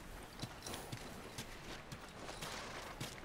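Horse hooves clip-clopping in The Last of Us video game, a quiet, evenly paced series of distinct hoof strikes at walking speed, with faint ambient background and no speech.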